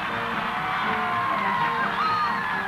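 Crowd cheering rings through the streets by City Hall in Lower Manhattan in a 1920s tribute to swimmer Gertrude Ederle, hosted by Mayor Jimmy Walker; a steady, distant roar of whoops and yells carries on without a break.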